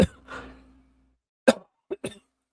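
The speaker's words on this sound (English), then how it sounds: "Sorry about that. I had to cough." A single sharp cough near the microphone, followed after a pause by a couple of short throat-clearing bursts.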